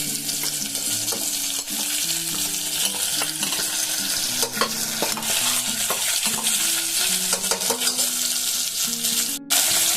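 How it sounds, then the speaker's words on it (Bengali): A paste of ginger, garlic, onion and chili with tomato, Kashmiri chili powder and turmeric fries in a pan, a loud steady sizzle under repeated scraping stirs and a few metallic clinks, with no talking. "এগুলো দিয়ে এখন সব আমি কষিয়ে দেব"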